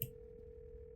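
A telephone tone in the video game Scarlet Hollow, a steady pure electronic hum holding a single pitch for about a second. It is faint and alone, with a soft click at the start.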